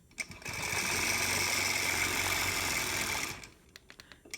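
Sewing machine stitches a quilt border in one continuous run of about three seconds, a close, steady mechanical whir that starts and stops abruptly with small clicks around it.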